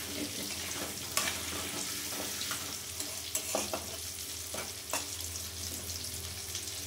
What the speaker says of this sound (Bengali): এবার আমি এই তেলে একটু আলুটাও ভেজে নেবো, লাল লাল করে ভেজে তুলে নেব।